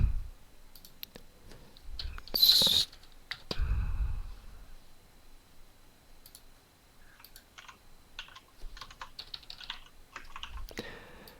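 Fingers tap on a computer keyboard in scattered bursts of quick clicks, with a louder thump and a brief snap-like noise early on, then lighter irregular keystrokes fading in and out.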